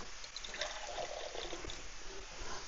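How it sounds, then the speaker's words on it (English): Water pours into a meat pie filling in a pan, a steady, fairly faint liquid trickle and splash running continuously with no talking. "Now you add some water."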